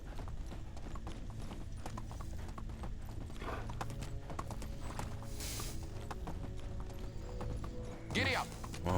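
A horse gallops in the medieval game Medieval Dynasty with a steady, rhythmic clip-clop of hooves close by and a brief whinny. Someone speaks over the hoofbeats.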